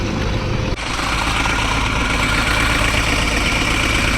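Tow truck parked beside an accident-damaged car with a cut axle rod, its engine idling in a steady, close, low rumble after a brief dip near the start.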